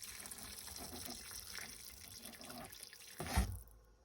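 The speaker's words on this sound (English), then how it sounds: "just cover with hot water" Hot water is poured into a pressure cooker pot in a quiet, continuous trickling stream, ending with a brief clunk before it goes silent.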